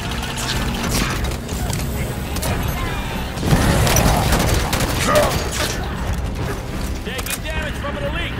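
Turret combat in Halo 5 Guardians, with mechanical clanks, creaking machinery and bursts of gunfire over a busy, continuous battle soundscape, and voices talking during the fight.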